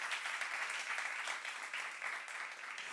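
Steady applause from a church congregation during a youth-group sermon, a dense even wash of many hands clapping at moderate distance, sustained without a break and no one speaking over it.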